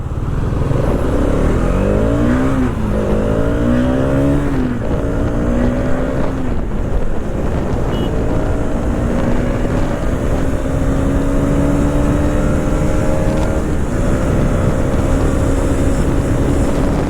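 A Hero Xtreme 250R motorcycle rides and accelerates, its engine note rising through the gears in steady sweeps, loud and close under constant wind rush with no talk.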